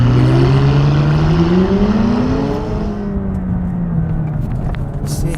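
A McLaren 570GT sports car accelerates on a closed road, its engine note climbing loud and close before easing off into a steadier, quieter drone.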